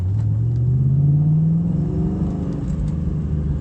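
A New Edge Ford Mustang with a repaired throttle cable accelerates, its engine note rising steadily in pitch as it pulls, loud and close from inside the car.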